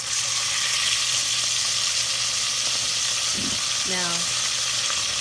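Butter and chicken drippings sizzle in a pan over low heat with canned mushroom soup, a steady close frying hiss that carries on while a person briefly speaks.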